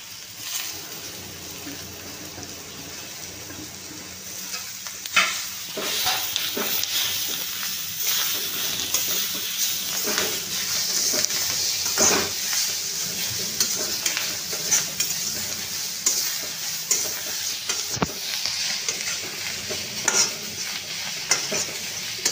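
Vegetables fry in a hot pan with a continuous loud sizzle, broken by scraping stirs of a spoon throughout.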